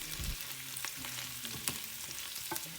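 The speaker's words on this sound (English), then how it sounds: "Add a teaspoon of cumin powder and stir with the sausages and potatoes." Fried beef sausages and potatoes with cumin are stirred in a skillet, a close, soft sizzle and crackle of frying broken by repeated scraping taps of a utensil against the pan, with no voices.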